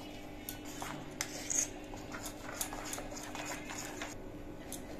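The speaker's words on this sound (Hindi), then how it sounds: "अब मैं इसे मिलाकर छोड़ देती हूँ।" A spoon stirring fish with salt and spices in a metal bowl, quick light clinks and scrapes in an uneven rhythm, close and fairly quiet with a couple of sharper knocks.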